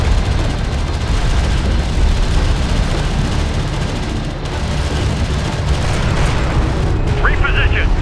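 Battle in the desert strategy game Homeworld: Desert of Kharak, with dense, loud, rumbling explosions and artillery-like booms rolling continuously, and brief radio-style voice chatter near the end.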